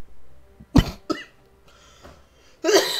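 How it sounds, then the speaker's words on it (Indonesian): A person coughs sharply twice in quick succession, close and loud, then after a quiet pause gives a longer, rougher throat-clearing cough. "Sorry, batuk."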